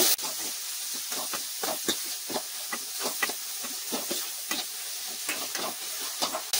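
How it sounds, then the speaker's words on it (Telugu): A spoon stirs turmeric into broad beans frying in oil, giving a quiet sizzling bed under a steady run of quick, repeated scraping strokes against the pan. "ఇది కూడా కలిసేట్టు కలుపుకోవాలి"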